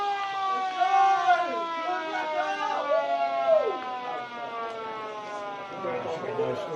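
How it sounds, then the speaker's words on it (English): A long, steady siren drones through the quarter-time break of a country Australian rules football match at Boyup Brook, sustained and fairly loud with layered harmonic tones, while a commentator keeps talking over it. "Just after the siren."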